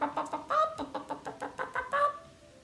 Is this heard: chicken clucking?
yes